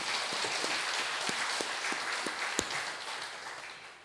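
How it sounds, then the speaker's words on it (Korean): A church congregation applauds during a Sunday worship service, a soft wash of many hands with a few distinct nearer claps standing out and one sharper clap near the end, fading slightly at the close. "박수 한번 보내주세요"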